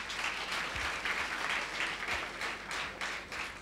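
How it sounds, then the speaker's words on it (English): An audience in a hall gives sustained, fairly faint applause for a person standing up, a steady wash of clapping from many hands lasting several seconds. "A good clap for him."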